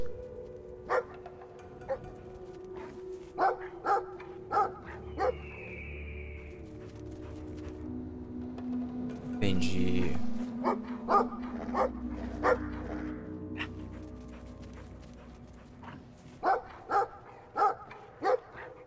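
A dog in Brothers: A Tale of Two Sons barks in short, repeated bursts, spaced irregularly across the stretch, fairly close and loud against quiet game ambience, with a brief louder noise midway.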